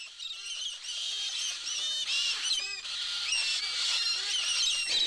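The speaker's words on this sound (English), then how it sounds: "These noisy but colourful parrots are just one of the many which give Australia the distinction of having more parrot species than any other country" A flock of galah parrots in the Australian outback screeching repeatedly, harsh overlapping calls rising and falling throughout, fairly close and loud with no talking.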